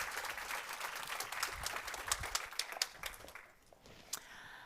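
An audience at the Nordic Female Investor Meetup 2021 applauds a speaker as she takes the stage. Dense, fairly faint clapping fills the room, then thins out into a few scattered claps.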